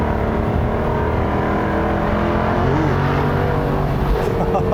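Jaguar F-Type Convertible R sports car on the move, its engine revving and droning steadily from inside the cabin while not yet in sport mode, loud and continuous with the pitch rising and falling.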